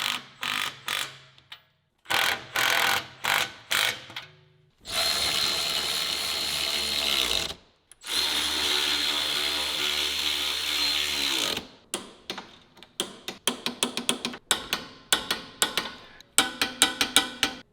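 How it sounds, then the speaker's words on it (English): A power tool zips down the 21mm suspension bolts on a BMW M2 Competition in two sustained whirring bursts, close and loud, framed by rapid clicks, ratcheting and metallic clatter of work in the garage. "we're just gonna zap down these 21s real quick before we torque them"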